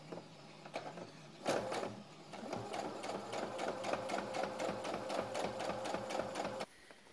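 Sewing machine stitching a strip onto both pockets of a backless frock, a fast steady run of needle strokes that starts after a short lead-in and stops abruptly near the end, close and loud.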